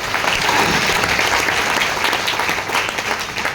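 An audience at an entrepreneur gathering bursts into loud, dense applause, with many hands clapping steadily and close by. The clapping stays strong and even the whole time.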